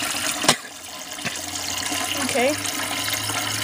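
A 1926 Standard low tank toilet refills with a steady watery hiss and trickle, a brief tap near the start and a short word spoken over the flow.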